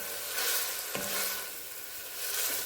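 Chili ingredients with ground black pepper stirred in a pot, a soft close scrape and sizzle with one sharp clink of the utensil against the pot.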